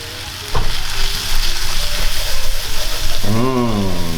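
A couple of chunks of butter drop into a hot pan and sizzle steadily while making a spicy cayenne pork spaghetti sauce. The frying is close and constant, with a soft wavering squeal toward the end.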